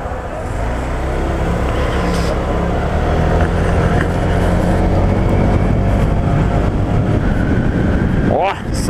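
Honda PCX scooter engine accelerating at full throttle while riding, a loud steady engine drone with heavy wind rush throughout.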